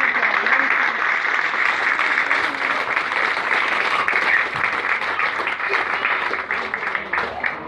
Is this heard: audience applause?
yes